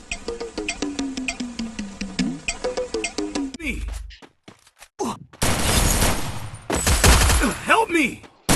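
Gunfire in a shooting video game comes as rapid bursts of automatic shots mixed with game effects, then pauses before dense, loud volleys return. Someone talks excitedly over the action.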